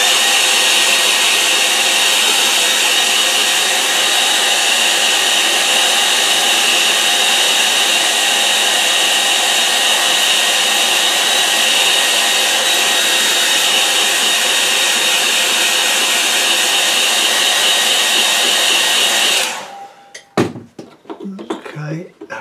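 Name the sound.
hair dryer drying acrylic paint on paper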